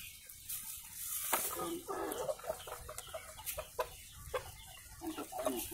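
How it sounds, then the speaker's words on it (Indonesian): A rooster clucks and calls at a moderate distance in an outdoor setting, giving intermittent short bursts over steady background noise, with faint voices nearby. "Ayam jago."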